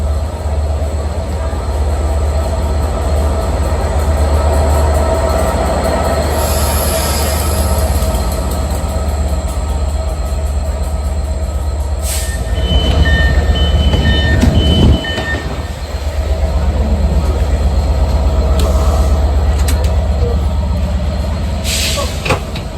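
A train rolls along the rails in Cardiff as a constant rumbling roar with low rattling of the carriages, occasional clunks and a brief squeal, and some people's voices murmur faintly beneath it.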